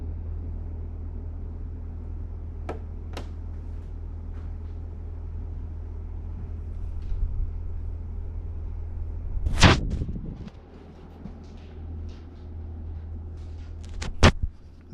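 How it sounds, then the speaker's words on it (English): A mini split heat pump's indoor unit on a main floor runs while pumping out heat, giving a steady low hum with some loud, brief knocks and bumps nearby. "here we have our indoor unit that's on the main floor. It's pumping out heat right now."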